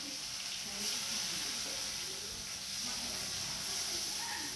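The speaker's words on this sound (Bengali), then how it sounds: "টমেটোগুলো একটু হালকা ভেজে নেব।" Chopped tomatoes frying lightly in oil with cinnamon and cloves, a soft continuous sizzle and hiss at moderate level, steady and unbroken with no talking.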